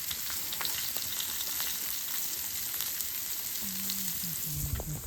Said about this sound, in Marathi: मस्त धगक बसून प्रॉन्स फ्राय लॉलीपॉप.